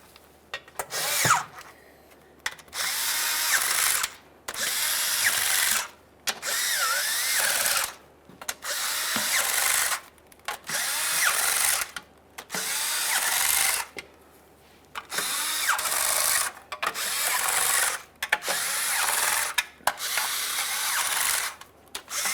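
A power tool runs in repeated bursts of about a second each, with short gaps between them, as it snugs down the transmission pan bolts on a 1994-2001 Dodge Ram 1500. The sound is close and loud, with no talking over it.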